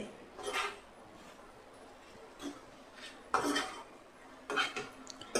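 Potato, carrot and capsicum pieces are stirred in a pan for a curry, with a few faint scrapes and clinks of a spoon against metal spaced apart in a quiet kitchen.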